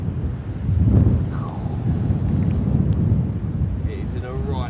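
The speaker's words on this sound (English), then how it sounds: "The wind has just changed, blowing straight in here." Strong wind gusting across a fishing lake while carp fishing in cold water, a steady loud rushing roar buffeting the microphone throughout, with a voice speaking faintly over it.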